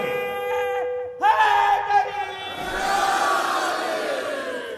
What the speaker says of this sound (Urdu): دونوں ہاتھ بلند کر کے نعرہ حیدری